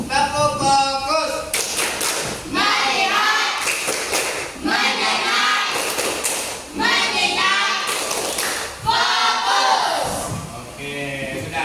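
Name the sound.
class doing the 'tepuk fokus' focus-clapping routine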